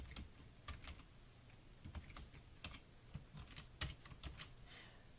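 Computer keyboard keys tapped while writing Python code, faint, close clicks in irregular short bursts with no one talking.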